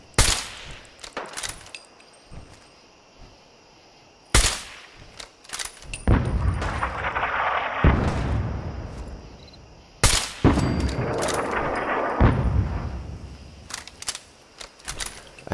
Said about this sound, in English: the artillery stops when I do